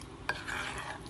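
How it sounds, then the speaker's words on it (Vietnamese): Shrimp batter for fried shrimp fritters is stirred in a bowl, giving a short scrape and clink of a utensil followed by soft, wet mixing. "Bây giờ mình trộn đều lên để mình đi chiên nha mọi người"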